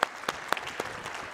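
An audience clapping to welcome two speakers, Jason and Matt, at a live church-style teaching session; a brief burst of fairly close, crisp applause from a modest crowd.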